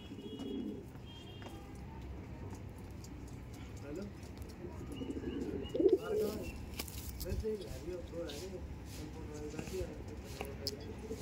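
Soft cooing from Madrasi and Punjabi pigeons murmurs through a noisy setting with someone talking over it, a slightly louder coo rising briefly near the middle.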